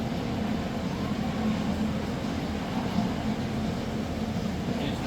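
Steady low rumble of airplanes flying overhead in GTA 5, a continuous drone that stays even and moderately loud throughout, with no talk over it.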